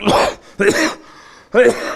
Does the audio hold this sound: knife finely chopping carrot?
no